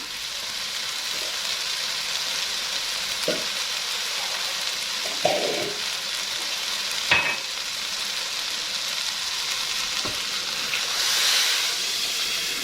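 Water goes into a hot pan of green beans and rice with a steady hissing sizzle and steam. A few soft knocks and scrapes break through, and the hiss swells briefly near the end.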